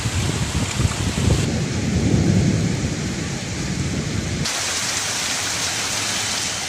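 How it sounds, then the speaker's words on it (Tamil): Heavy rain pours down in Nagapattinam district, Tamil Nadu, as a loud, dense, continuous roar of water on surfaces. Deep rumbling swells early on, then the downpour shifts abruptly to a brighter hiss, like separate stretches joined together. "நாகை மாவட்டத்தின் பல்வேறு இடங்களில் இடையுடன் கூடிய கனமழை பெய்துள்ளது"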